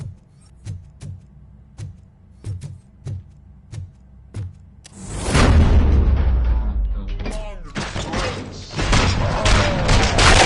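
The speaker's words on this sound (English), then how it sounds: "Gunshots detected." A run of sharp, evenly spaced video game gunshots rings out, then a heavy booming blast and a dense burst of rapid gunfire follow, in Robocop: Rogue City.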